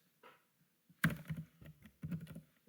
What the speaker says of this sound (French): Donc, pour ce faire, on tape la commande